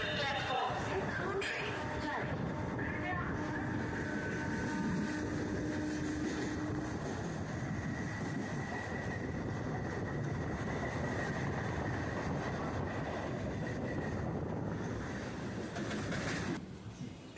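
Barrackpore local train of the Kolkata suburban railway running at speed, with a steady loud rumble and rattle of wheels on track throughout, a voice speaking over it, fading slightly at the end.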